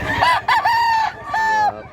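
A medium-size gamecock up for sale crows loud and close, a broken multi-part crow with a short gap before the final drawn-out note.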